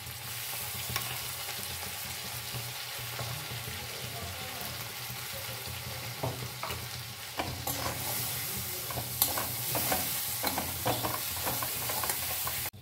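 Cumin, ginger and chili paste sizzle steadily in a hot pan for a vegetarian potato dum curry, with a continuous close frying hiss broken by scraping stir strokes that grow busier toward the end.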